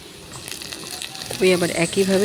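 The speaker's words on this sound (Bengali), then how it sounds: "দেখতে পাচ্ছেন এবার আমি পেঁয়াজ দিচ্ছি।" Onions sizzle and fry with capsicum in a pan while restaurant-style pasta is made, a steady hiss with bursts of crackling and stirring that grow louder toward the end, under a speaking voice.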